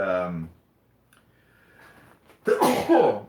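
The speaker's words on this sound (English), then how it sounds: "sorry, I had to sneeze." One sudden, close sneeze bursts out during a live tech talk show, after a stretch of speech and a near-silent pause.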